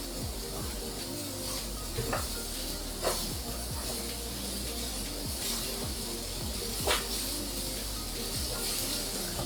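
Onion hitting a hot griddle for a quick burger, giving a steady broadband hiss throughout with a few sharper pops and crackles spread through it.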